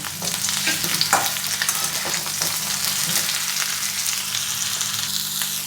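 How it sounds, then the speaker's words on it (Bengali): Drumsticks, eggplant and potatoes frying in an oiled pan, a loud continuous sizzle with repeated stirring scrapes close by, no voices. "এবারে আমি সজনের ডাঁটা নিয়েছি আর বেগুন নিয়েছি এগুলোও দিয়ে দিচ্ছি দিয়ে আবার একটু নেড়ে নেব"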